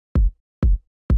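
Three deep, boomy electronic kick drum hits land evenly spaced, each loud with a quick thump and short decay, played alone.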